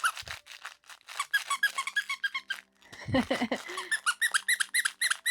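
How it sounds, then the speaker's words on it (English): A squeaker inside a plush ladybug dog toy, embroidered in the hoop, gives rapid bursts of high squeaks in quick series, loud and close, with a short rustle partway through. "Where's the squeaky? Okay, there it goes."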